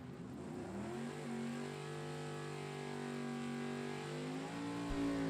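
A Camaro and a Duster accelerate side by side at a Super Pro drag race, their engines a steady, loud roar of climbing harmonic tones that holds throughout with no voice over it.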